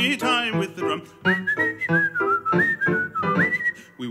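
A melodic tune whistled by a performer, a clear sequence of sustained and gliding notes in a steady rhythm, close and loud, layered over singing voices.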